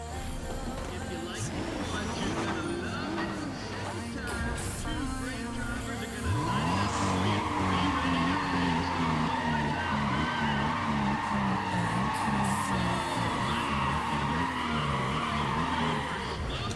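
A Toyota Supra racing in Need for Speed ProStreet, with engine revs rising and shifting and a loud, sustained tire squeal in the second half, while voices talk over the game audio.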